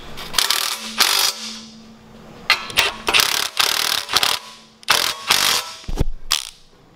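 Washer, lock washer and nut being tightened on the backside of a 2015-2018 RAM Rebel integrated winch mount, heard as close, loud bursts of ratchet clicking in several separate runs with short pauses and a metallic clink between them.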